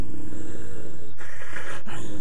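A voice imitates a Rottweiler's growl: a close, throaty, rumbling snarl that holds for about two seconds with a couple of brief breaks.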